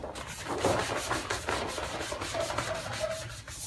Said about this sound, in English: I might sand down the sides a little bit